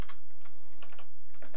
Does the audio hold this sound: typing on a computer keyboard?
yes